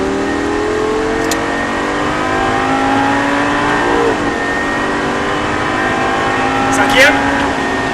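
A Lamborghini engine drones loudly from inside the car, its pitch rising steadily as it accelerates under throttle, with a brief gear shift around the middle and a voice speaking over it.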